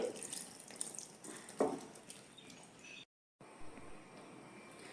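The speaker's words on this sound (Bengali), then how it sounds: "এবার এই খুন্তিটা ধুয়ে একটু জল দেবো" Tap water runs as a spatula is rinsed under it and water is added for soya chilli, a steady wash with a few clatters and drips, a brief gap of silence, then softer running water resuming.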